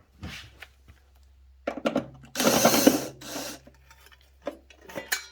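Screw being removed from the cover of an electric water heater, heard as a few short scraping and rattling bursts with a louder rough burst in the middle, close by and otherwise quiet.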